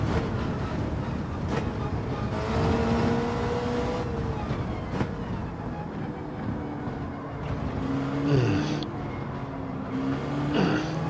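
Alpine A220 race car from 1968 in Gran Turismo 7, its engine droning steadily and close with rising and falling revs through the run, no speech over it.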